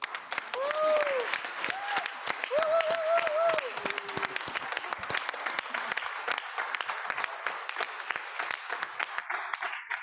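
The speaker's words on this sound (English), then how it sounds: "I would like also to give her a big round of applause" A room full of people claps steadily in dense, sustained applause, with a few voices briefly rising above it near the start.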